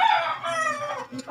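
A rooster crows over a flock of chickens close by, one drawn-out strained call with a brief fowl noise trailing after it, no voices.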